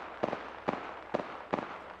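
Apex Legends gunfire: four evenly spaced, faint shots or short bursts, each a quick crack with a brief tail, set against quiet game ambience.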